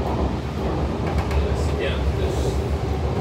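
Continuous low rumbling of a moving metro train carriage, with steady engine and track noise and brief faint squeaks over it.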